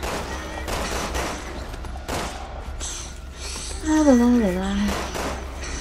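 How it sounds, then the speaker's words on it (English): Gunfire in the video game Resident Evil 6 crackles in bursts across the clip beneath steady game music and a low hum, with people talking over the action. "Oh, I can still shoot."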